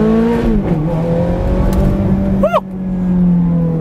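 A Ferrari F430 roars past close by, its engine revving hard and loud as it accelerates, the pitch rising and then falling away, with a brief voice in the background.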